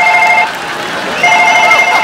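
A telephone bell ringing: two loud bursts of high electronic ringing tone separated by a short gap, close and clear, with faint voices in the background.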